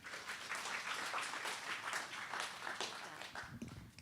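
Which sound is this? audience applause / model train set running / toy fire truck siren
audience applause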